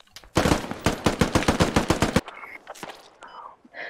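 Automatic rifle fire in the military shooter game Squad rattles out as a long, loud burst of rapid close shots, then trails off into faint distant pops and echoes.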